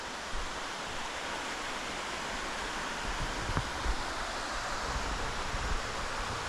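Steady broadband roar of a waterfall heard from close by near the Hoosac Tunnel, a constant wash of falling water with no voices.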